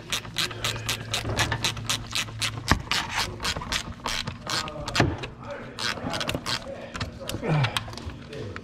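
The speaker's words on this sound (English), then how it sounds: "he's wrenching it, okay" Ratchet wrench clicking steadily on a fan shroud bolt of a 1999 Mercury Mountaineer with the 5.0L V8 during water pump replacement, rapid close pawl ticks running throughout with occasional knocks and a voice talking underneath.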